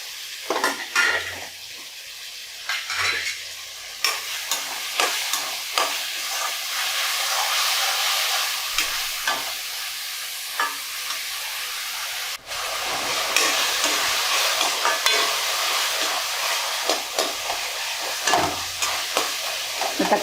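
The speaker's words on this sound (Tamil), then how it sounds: "தக்காளி சேர்த்து கிளறிக்கலாம்." Tomatoes being stirred and sautéed in a pan for a Tamil chicken curry, with a steady close hiss and sizzle broken by repeated scraping stir strokes, no talking.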